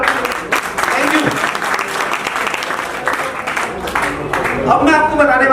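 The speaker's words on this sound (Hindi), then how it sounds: "एक बार जोरदार ताली हो जाए सर आपको।" Audience applause at a business seminar, a sustained round of clapping from the room with voices talking over it and rising toward the end.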